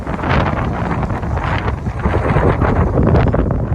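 Strong wind blows steadily outdoors over open rice paddy fields, a loud continuous buffeting rush with gusty swells that also batters the microphone, with no voices.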